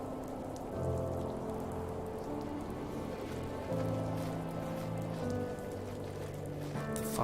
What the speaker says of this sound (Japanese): 雨降ってきた。